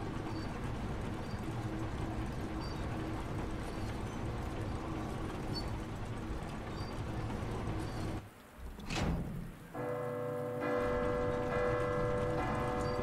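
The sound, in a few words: church bell struck in Resident Evil 2 video game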